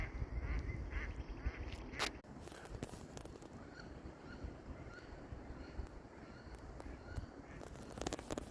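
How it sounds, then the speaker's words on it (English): Wood ducks calling at a beaver pond in Maine, a scattered series of short squeaky calls at moderate distance over a steady outdoor background, with one louder burst early on. "Those were wood ducks."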